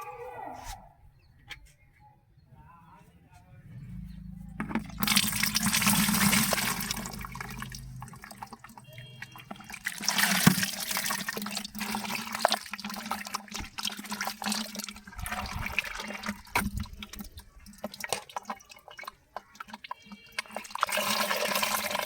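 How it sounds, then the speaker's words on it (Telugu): Water pours and trickles into a container after a quiet start, a steady rushing splash with gurgling surges that swell and ease over time. "దీంట్లోనికి ఇప్పుడు మనము కలెక్ట్ చేసుకుందాం ఈ వాటర్ని."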